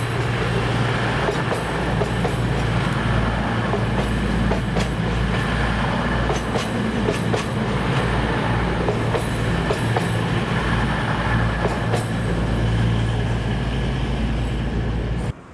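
A British Rail Class 222 passenger train, unit 222-005 on an East Midlands Railway Sheffield to London St Pancras service, rumbles past Derby loudly and continuously, with a steady roar and rhythmic wheel clatter on the rails.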